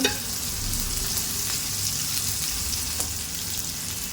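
Cashews fry in hot oil in a pan for rava upma, a continuous close sizzle with light stirring sounds and no talking.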